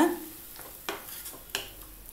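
Ground coriander paste sautéing on low heat makes a soft sizzle, with a few scraping strokes of a spoon stirring through the pan.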